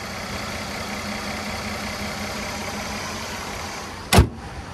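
A 2012 Mercedes-Benz E350 4MATIC with a 3.5 liter naturally aspirated V6 at a steady idle, heard as an even, continuous hum with the hood open, then a single sharp bang near the end, like a latch or hood closing.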